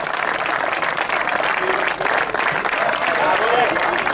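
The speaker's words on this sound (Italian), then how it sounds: "Grazie Giacomo, fatti vedere da tutti che ti possono applaudire insieme a questi ragazzi giovanissimi" Sustained applause from a crowd at a sailing championship prize giving, dense and steady clapping filling the whole stretch without pause.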